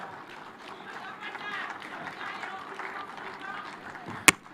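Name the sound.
audience applause at conference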